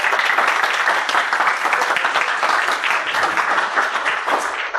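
Loud, dense applause from a conference audience at a security event as a helper is welcomed, continuous clapping that holds steady from start to finish with no talk over it.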